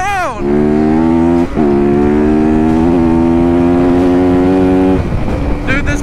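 A YZ dirt bike engine drones loud and close with a strong steady tone, dipping briefly a couple of times before the pitch drops off near the end.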